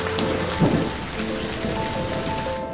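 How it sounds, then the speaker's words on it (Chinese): Rain pours steadily onto surfaces, a dense, even hiss of drops that goes on without a break, with one slightly heavier splash near the start and no voices. "又下雨了。"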